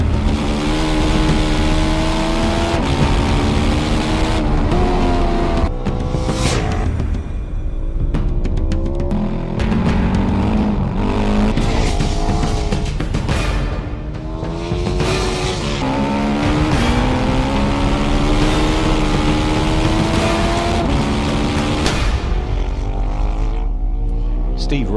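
A Ducati race motorcycle screams around a track lap, its engine loud and close, revving up and down through repeated shifts with a brief dip partway through, continuous and dominant.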